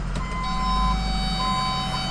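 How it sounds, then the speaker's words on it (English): Backup alarm on a 6.0 diesel work truck, repeated high electronic beeps sounding over a loud, low diesel idle rumble, close and clear. "We got backup alarm."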